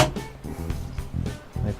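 A fridge slide in a Stoney Creek Nugget camper is pulled open, giving a few close, hollow sliding rumbles and soft clunks in quick succession.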